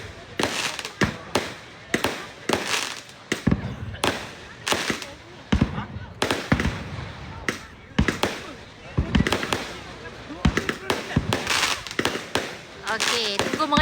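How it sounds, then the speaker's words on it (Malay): Firecrackers and fireworks burst in a rapid, irregular barrage of sharp cracks and booms on a village night of Hari Raya festivities in Kampung Talang Hilir, Kuala Kangsar, Perak, with people talking between the blasts. "Okey, tunggu mercun habis."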